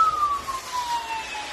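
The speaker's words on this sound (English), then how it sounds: "that's the sound I've been hearing all morning long. Police, fire truck, and ambulance." Emergency sirens from police, fire truck and ambulance during a snowstorm, a single steady wailing tone gliding slowly downward at a moderate distance, heard alone with no talk.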